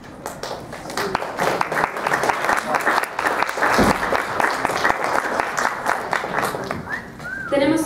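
Audience applause at a press conference in Mexico, dense steady clapping from a crowd filling the room for several seconds, with a voice heard faintly beneath it.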